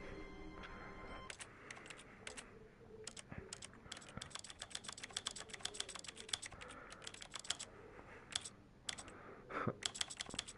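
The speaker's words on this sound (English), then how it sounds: "I love how it sounds like a keyboard." Computer keyboard typing in The Stanley Parable, rapid irregular key clicks in quick bursts with short pauses, crisp and close over a quiet background.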